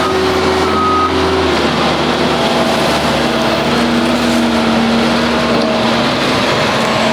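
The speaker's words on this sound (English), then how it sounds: "he just drives right up to the dirt, makes a wheel mark, backs back off of it" Heavy tile-laying tractor engine idling and revving steadily in a farm field as it drives up to a dirt pile and backs off, with a faint reversing beep over the continuous rumble.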